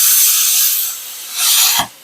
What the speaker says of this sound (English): If you can't get the bolts out and you don't have a press and it fights you too much, you pull out the big guns. You get the plasma torch.